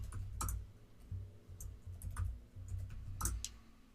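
Password being typed on a computer keyboard: irregular bursts of clicky keystrokes, close and fairly soft, with short pauses between groups of presses and no talking.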